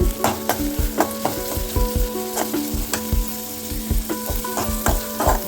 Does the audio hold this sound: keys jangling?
no